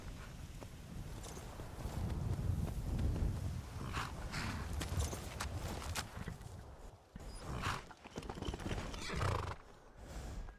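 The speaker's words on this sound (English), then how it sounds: "Let's leave the horses here." Horses in a video game whinny and snort over the clip-clop of hooves walking, with a rumbling ambient background; several neighs rise clearly above the hoofbeats.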